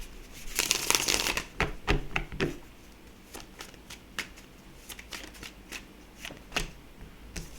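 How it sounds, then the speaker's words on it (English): Tarot cards are shuffled in a quick riffle, then tapped and shuffled again in short crisp bursts, close by and fairly quiet. "Spirit wants me to shuffle again"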